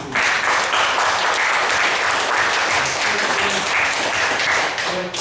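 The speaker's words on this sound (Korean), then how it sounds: "여러분 응원의 박수 한번 주시고" A church congregation at a Sunday service claps loudly and continuously, a dense, even roar of applause that fills the space and holds steady throughout.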